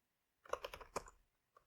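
Quick burst of computer keyboard key presses during a copy-and-paste, a cluster of close clicks followed by a pause and two lone taps, faint and nearby.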